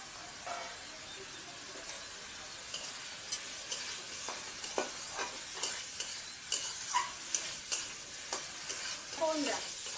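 Spiced masala paste stir-fried in a pan for a small-fish curry with mango blossom, a steady sizzle and hiss under repeated scraping strokes of a spatula, close and continuous.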